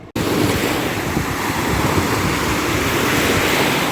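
Rough Black Sea surf at an Odesa beach, a loud continuous roar of breaking waves with wind buffeting the microphone, steady throughout after a brief silent start.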